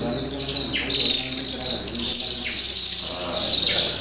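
Birds nesting around a welcome center at Samburu National Reserve in Kenya chirp and tweet constantly, several overlapping high calls close by, with no talk.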